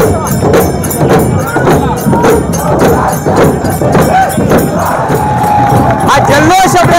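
A crowd cheers loudly during a Dhulivandan festival procession with gulal being thrown in the Shrivardhan Panchayat Samiti courtyard: a dense, continuous roar of voices with rhythmic pulsing beats running throughout, close and constant.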